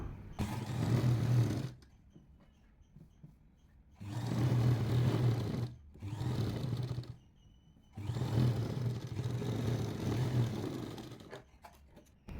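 Sewing machine stitching the joined edge of a kurti top, running in three long bursts of steady motorized whirring with brief pauses between them, fairly close.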